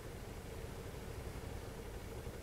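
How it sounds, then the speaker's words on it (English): A ship's engine and generator sets run in the video game Stormworks, a steady low broadband drone with a constant hum and no change in pace across the short stretch. "So yeah, engine's running."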